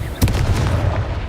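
The Confringo blasting spell bursts in Hogwarts Legacy with a sharp loud crack, then a sustained rumbling roar of battle noise, up close, with no voice over it.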